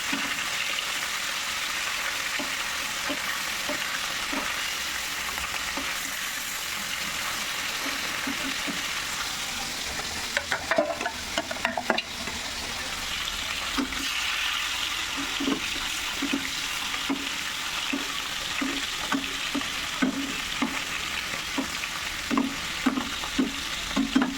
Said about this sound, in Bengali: তো এইদিকে আমি মাছগুলো ভেজে নিই